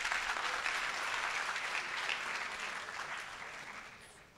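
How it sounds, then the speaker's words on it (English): Audience applause at a UX design summit, a dense sustained wash of clapping from a large crowd that gradually tapers off toward the end. "thank you for the applause"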